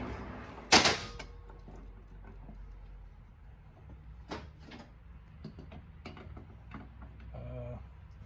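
Truck hoses for a Kenworth K100 cabover are tightened in a bench vise. A sharp metallic clank opens the clip, followed by scattered clinks, taps and jangling tool sounds nearby in a quiet workshop.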